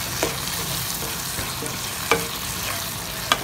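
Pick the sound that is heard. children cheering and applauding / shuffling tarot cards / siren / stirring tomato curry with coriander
stirring tomato curry with coriander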